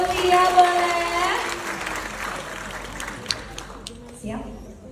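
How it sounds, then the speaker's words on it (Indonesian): An audience claps at a public speaking workshop for university students: dense, steady applause swells loudest in the first seconds, then thins and fades, with voices murmuring underneath. "Tepuk tangan dulu buat Via, boleh?"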